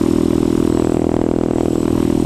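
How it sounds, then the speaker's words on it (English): A motorcycle engine holds a loud, steady, throbbing drone close by under throttle during a wheelie, with no talking over it. "here's a wheelie where you chase it"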